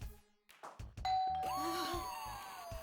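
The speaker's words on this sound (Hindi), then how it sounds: "अरे घंटी तो है।" A doorbell rings with a two-tone chime that rings on and lingers, following a few dull knocks and bumps.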